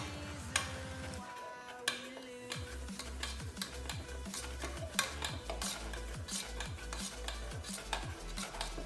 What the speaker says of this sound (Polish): Teraz ustawiam sobie mniejszy płomień i mieszamy przez 30 sekund około.